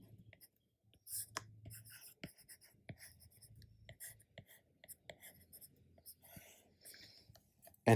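Chalk or marker scratching and tapping out an equation on a board during a physics lecture on covariant derivatives, a quick irregular series of strokes and taps, close and fairly faint in a quiet room.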